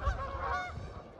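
Geese honk several times at a pond where mallards gather, a short burst of loud nasal calls close by.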